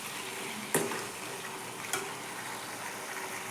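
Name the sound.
potatoes frying in oil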